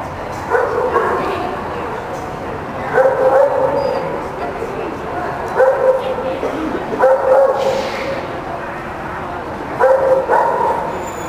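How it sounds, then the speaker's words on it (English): A crowd of dogs at a German Shepherd dog show barks and yips in repeated overlapping bursts, loud and close, with a busy, reverberant hall din between volleys and occasional whimpers. "Significantly louder, a lot more dogs."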